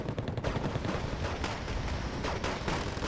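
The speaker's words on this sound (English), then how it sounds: "LVTPs is continuing on firing." LVTP vehicles fire guns during a jungle battle in the Wargame Red Dragon game. Dense, loud bursts of rapid automatic gunfire and cracking shots carry on without a break through the whole stretch.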